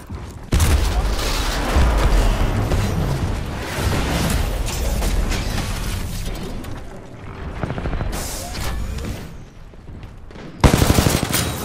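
Heavy, sustained gunfire from a Splitter rifle on a titan in Titanfall 2, a loud, dense stream of shots and booms with mechanical clatter, fading briefly before a final hard burst.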